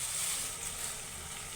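Cumin powder hits frying egg biryani masala in a pan, raising a soft, even hiss of sizzling oil that stays steady and fairly quiet throughout.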